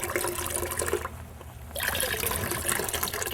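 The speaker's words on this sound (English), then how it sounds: "I've got water draining out the bottom." Water drains out of the bottom of a squeezed resin straining bag in a steady trickling splash, close by, with a brief lull in the middle before it picks up again.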